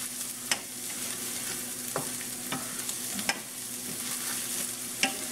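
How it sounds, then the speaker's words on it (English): Aromatics frying in a hot pan for a beef and broccoli stir fry, a soft steady sizzle punctuated by a handful of sharp spatula scrapes and taps as they are stirred, close and fairly quiet. "We don't want it to burn, so I'm just kind of stirring it"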